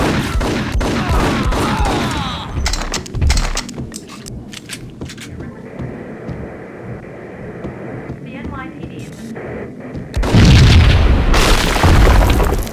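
Gunfire and booming blasts from the video game Max Payne, with bursts of shots and heavy thuds over a low hum. Voices talk over the action throughout, and a loud explosive burst comes near the end.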